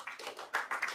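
A crowd at a gathering of MUI officials claps in short uneven bursts, a faint, quick patter of hands at a distance.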